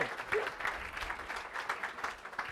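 Audience applauding a magician at an awards event, a short burst of many hands clapping, moderately distant and fairly quiet, steady for the whole moment.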